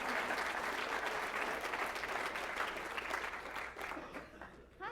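An audience applauds to welcome a lecturer for a talk on research as social justice, steady dense clapping from a crowd that thins and fades toward the end.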